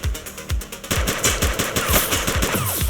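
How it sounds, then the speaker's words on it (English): Rapid automatic gunfire from a police game set in The Precinct, loud bursts of repeated shots followed by a steady rattling volley with no talk. "She's shooting!"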